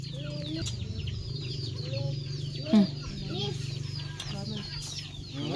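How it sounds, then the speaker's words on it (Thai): Several chickens cluck repeatedly nearby, overlapping calls rising and falling above a constant low hum. "ไก่ไก่"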